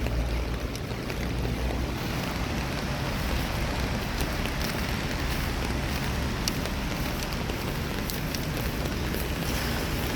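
Steady, dense rain hisses and patters continuously on surfaces nearby, with scattered sharper drops and a low rumble underneath; no voices.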